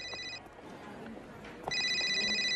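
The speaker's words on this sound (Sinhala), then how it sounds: "කාගෙද ෆෝන් එකක් රින් වෙනවා" A mobile phone rings with a bright, repeating electronic ringtone that cuts off briefly and then resumes louder, over quiet room ambience.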